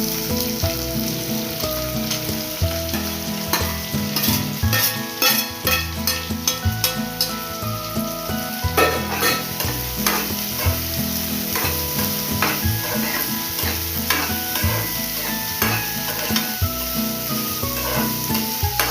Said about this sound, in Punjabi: ਜੀਰਾ ਨਾਲੇ ਪਾਵਾਂਗੇ ਕੱਟੇ ਹੋਏ ਪਿਆਜ਼